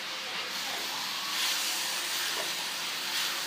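Soy sauce hitting a hot pan with onion and garlic, a loud continuous steamy hiss and sizzle close up, swelling slightly midway and holding steady throughout.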